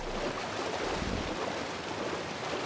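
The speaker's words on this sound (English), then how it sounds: "So this creek starts up at this waterfall." Steady broadband rush of a creek and waterfall flowing in the ARK: Survival Evolved video game, a continuous even wash of water filling the scene with no voices.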